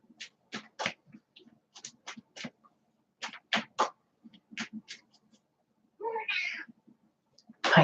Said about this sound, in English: My cat just wanted to say hello to everyone.